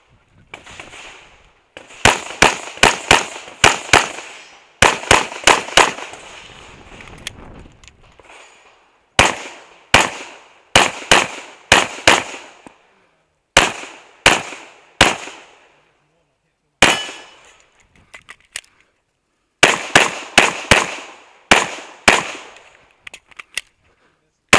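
Pistol gunfire at a USPSA match at a wildlife club range, loud close strings of rapid shots in quick bursts of four to six, broken by short pauses and repeated across the stage.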